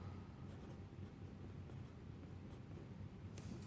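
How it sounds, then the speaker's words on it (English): An equation is written by hand, with a faint, steady scratch of the pen or chalk heard close and alone under a low background hum. "let's write it like this just in case"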